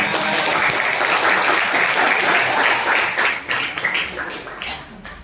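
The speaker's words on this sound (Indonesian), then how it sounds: "Tepuk tangan." Students in an Indonesian classroom applaud during a lesson, a dense, steady burst of many hands that holds for several seconds, then thins into scattered claps near the end.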